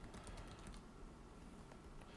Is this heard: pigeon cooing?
no